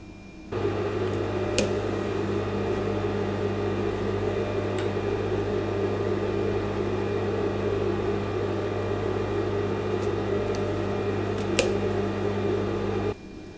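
A sewing machine stitches a facing onto a color block dress, its motor starting with a steady whirring hum that runs evenly for about thirteen seconds before stopping. A few faint clicks sit in the hum, with no talk.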